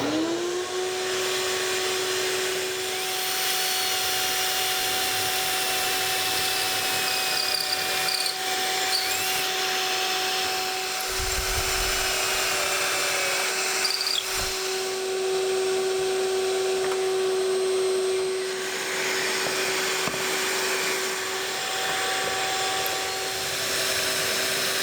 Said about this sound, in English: I've got the K5 Craig jig here, and it works really well if you'll take the time to attach a vacuum